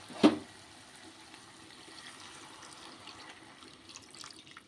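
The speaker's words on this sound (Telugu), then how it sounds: "ఇప్పుడు కొద్దిగా వాటర్ వేసుకుందాం ఎక్కువ కాదండి కొద్దిగా" A brief splash of water poured into a pan of ridge gourd curry at the start, then a soft, steady trickle and faint clinks close by, with no talking.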